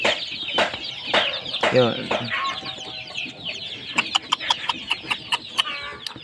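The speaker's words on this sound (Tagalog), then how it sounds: "Healthy po ang ating pong mga alagang sisiw mga ka-farm boys." Heritage-breed chicks peep in a farm brooder: a burst of high, wavering calls early on, then a run of short, sharp chirps near the end, with a brief spoken word between.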